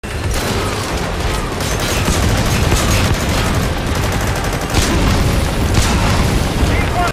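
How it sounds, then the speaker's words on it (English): Loud, continuous barrage of booming rocket explosions and blasts from the Sahelanthropus direct rocket attack in a Metal Gear video game, dense and unbroken throughout with a heavier burst near the end. "The one we are about to see is the direct rocket attack."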